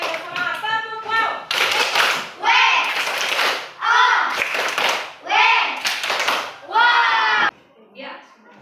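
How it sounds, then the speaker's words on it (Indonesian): Children in a classroom clap their hands together in short loud bursts on a teacher's cue, mixed with voices and cheering throughout. "Oke, tepuk tangan."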